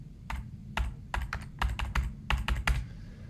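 Someone types a password on a computer keyboard: about a dozen crisp, close keystrokes in an uneven rhythm, some in quick pairs, over a low room hum.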